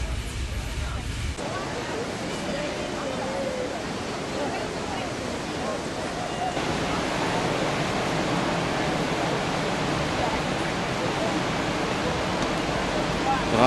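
A Norwegian waterfall beside the Flåm railway roars as a loud, continuous broadband rush of falling water, swelling after a few seconds and holding steady throughout.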